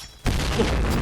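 A sudden deep grenade blast in a video game hits after a brief quiet moment, then a dense, rumbling roar of explosion noise sustains loudly to the end.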